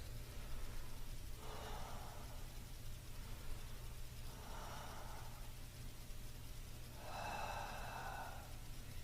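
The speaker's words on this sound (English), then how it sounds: "3 deep breaths." Three slow, deep breaths during a seated chair leg workout, each a soft airy exhale lasting about a second and evenly spaced, heard close over a low steady background hum.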